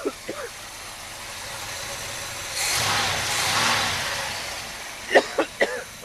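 A 1979 Cutlass with a 403 V8 turns over, catches and settles into a rough, steady idle, close and fairly loud, with a couple of brief voices near the end.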